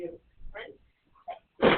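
In a math classroom, a short burst of breathy noises and a quick vocal sound lead into one sharp sneeze from a student at the end, against a quiet room.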